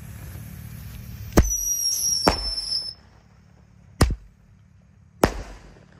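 Two large 1.9-inch Roman candles lit together on Takbiran night fire out of step: four loud, close shots, each with a sharp whoosh and a bright whistling squeal, separated by short gaps and a low crackle.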